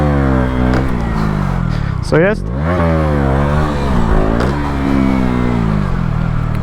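A 125cc four-stroke motorcycle engine revs up and drops back under engine braking, its pitch sweeping up and down repeatedly, loud and close, with someone speaking briefly.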